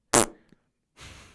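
A single loud, short, buzzy fart bursts close up, followed by a brief pause and then a softer noisy rustle.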